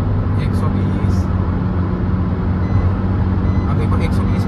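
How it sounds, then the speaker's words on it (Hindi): Inside a five-year-old Maruti Brezza cruising at 120 km/h, a loud, continuous roar of wind and road rumble fills the cabin at an even level throughout. "अब देखो 120 पे है, विंड नॉइस मतलब आ गई।"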